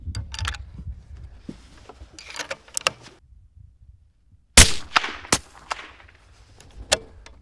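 A rifle is test-fired with factory ammunition at a range: one sharp, loud report with a ringing tail midway, surrounded by scattered clicks and handling noises of the gun.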